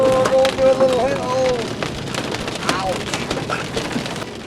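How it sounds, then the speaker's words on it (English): Hail pelts a moving truck in a hailstorm as a dense, irregular patter of sharp impacts over rumbling road and rain noise, with brief voices mixed in. "Oh, going through a little hail."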